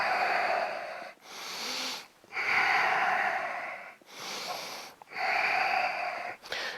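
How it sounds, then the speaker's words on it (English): During a banded home workout, deep, heavy breaths come in a slow, regular rhythm of long wheezy inhales and exhales, close and loud, with no speech. "Big, big breaths."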